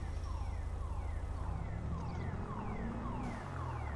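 A car alarm sounds in the GTA V police game with the LSPDFR mod, cycling through repeated falling whoop tones at a steady pace from a moderate distance over a low engine rumble.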